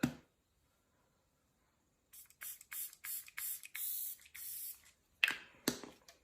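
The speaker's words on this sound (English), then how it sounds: "I'm gonna spray my face real quick here." Setting spray mists onto a made-up face in a rapid series of short, close pressurized bursts after a brief silence, with a couple of louder puffs near the end.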